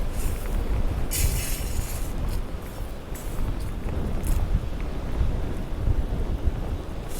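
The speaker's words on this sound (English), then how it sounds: "it's still a horribly windy day" Heavy wind on a south coast beach buffets the microphone continuously, a loud rumbling roar with gusting swells and occasional hissy rushes.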